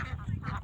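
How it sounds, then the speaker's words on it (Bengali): A flock of ducks at a scenic spot in Tangail gives two or three quick, nasal quacks close together, fairly faint and over almost at once. "কতগুলা হাঁস একসাথে।"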